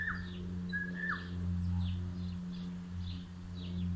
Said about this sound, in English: I've got the chattering of birds